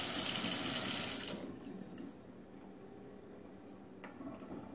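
A bathroom tap runs while a makeup brush is dampened; the steady hiss of water is full for the first second or so, then drops to a quieter trickle.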